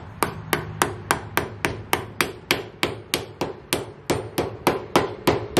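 A rubber-ended plastic hammer from Harbor Freight strikes a caster wheel pivot part on a SCAG zero turn mower, about twenty steady, evenly spaced dull knocks, close and loud with no talking.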